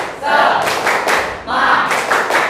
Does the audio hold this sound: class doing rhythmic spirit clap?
yes